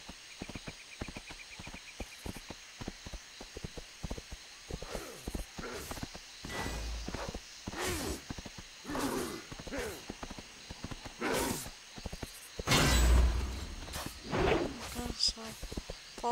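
Horse hoofbeats from a mount in the World of Warcraft video game, a series of rhythmic clopping steps mixed with other in-game effects and occasional bursts, moderately loud.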